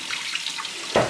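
Water running steadily from a kitchen tap as a sink fills, a continuous hiss that brightens briefly near the end as the flow shifts.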